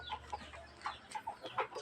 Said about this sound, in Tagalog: meron pa akong naririnig dyan sa mga bitaw ko na manok na meron may sipon